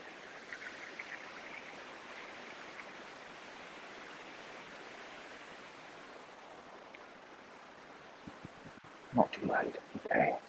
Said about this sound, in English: The river sounds, pretty loud.